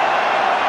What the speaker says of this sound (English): The crowd noise is going up.